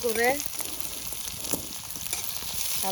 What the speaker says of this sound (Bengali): করে নেড়ে চেড়ে এটা ভেজে নিতে হবে